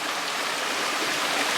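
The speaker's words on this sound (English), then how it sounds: "A little small waterfall" A small hillside waterfall running low after little rain gives a steady, even rush of falling water, close and constant with no talk over it.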